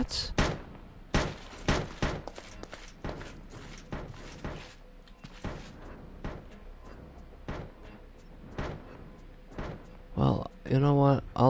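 Scattered sharp gunshot-like bangs in the video game Scape and Run, with irregular cracks and thuds spread across the stretch at varying loudness and a burst of voice near the end.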